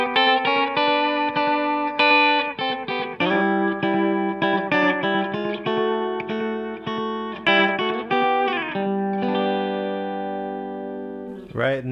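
A clean country-style electric guitar run through a compressor plays a lively run of picked notes and double stops, evenly sustained and up front, with a ringing note at the end and no voice over it.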